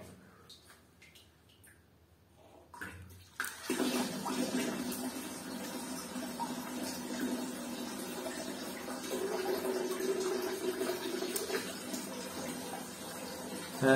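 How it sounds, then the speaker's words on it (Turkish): Water is turned on and runs through an instant water heater connected for repair, a steady rushing hiss that starts abruptly after a few seconds of quiet handling noises and keeps flowing at moderate level. "Şimdi suyu açacağım."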